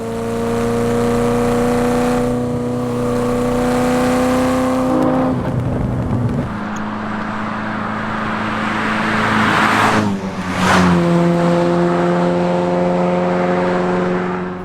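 A 1989 Ferrari F40 twin-turbo engine drones steadily at close range, its pitch dropping and rising through gear changes, with old-style wastegate turbo hiss layered over the engine note.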